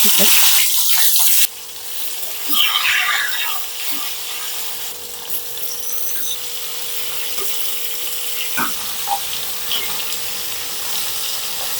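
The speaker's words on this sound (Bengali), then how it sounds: "ইলিশ মাছ আমি এভাবে উল্টে পাল্টে ভেজে নিচ্ছি" Hilsa fish fry in oil while being turned over, giving a steady, close broadband sizzle with occasional small pops and clicks, after a brief louder rushing burst at the very start.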